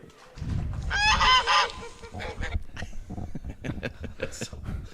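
A single loud, nasal goose-like honk bursts out at a girls' varsity high school soccer game, followed by a few shorter irregular sounds amid crowd chatter and voices.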